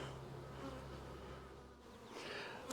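Bees humming around a 10-frame production beehive during an August hive check, a soft continuous buzz with individual insects drifting nearer and farther, quiet and without speech.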